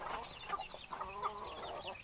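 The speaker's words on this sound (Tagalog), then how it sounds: "patuka ng manok" Chickens clucking and calling around their coop as they are given feed on the ground, with a steady stream of overlapping short clucks close by throughout.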